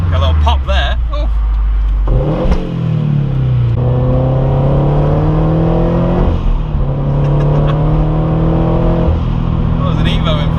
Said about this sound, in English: that turbo sound is certainly a lot more eager to pick up